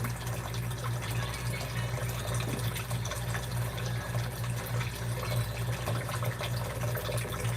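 Water runs steadily into a kitchen sink, with bleach added, to wash dishes: a continuous hiss and splash over a low hum, at a moderate level and close by, with no talking.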